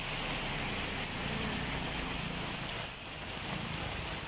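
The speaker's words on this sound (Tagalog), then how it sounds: "Ilang oras pa lang ulan yan." Heavy downpour during flooding, a steady dense roar of rain and running water filling the whole stretch, loud and continuous with a slight dip near the end.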